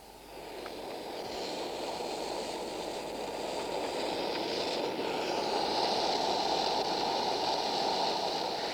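A model train carriage riding on sprung bogies runs steadily along the track, a continuous close rumble and rolling hiss that swells slightly partway through and holds without a break.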